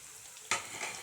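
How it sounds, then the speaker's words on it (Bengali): Food frying in a pan during home cooking, a low sizzle that swells suddenly halfway through as more goes in or gets stirred, then holds steady and close. "এখন এগুলোকে ভালো করে ভেজে নিতে হবে। এখন ভাজা হচ্ছে।"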